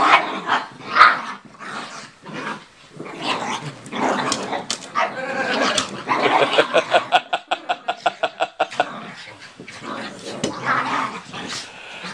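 Several Chihuahuas playfighting at home, yapping in quick bursts and growling, with a run of rapid sharp barks midway; people talk and laugh over the scuffle.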